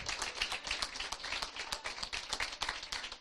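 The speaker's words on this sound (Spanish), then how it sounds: "Denle ese aplauso al Señor." A church congregation applauds during a Sunday sermon, a dense, steady wash of many hands clapping close by with no voices over it.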